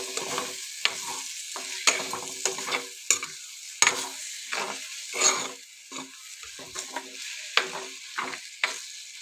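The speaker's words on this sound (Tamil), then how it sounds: "இப்போ நல்லா கிண்டிடலாம்" A bitter gourd and egg stir-fry being stirred in a pan: close, sharp scraping strokes in an irregular but steady rhythm over a light frying sizzle, with no speech.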